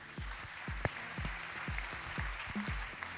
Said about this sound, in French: on peut les applaudir hein